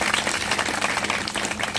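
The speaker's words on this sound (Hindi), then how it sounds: "आइए कलाम खुदा के लिए एक बार फिर से जोरदार ताली बजाएं" Church congregation at a Hindi-language Bible teaching service applauding loudly, a dense, steady wash of many hands clapping close by for the whole stretch.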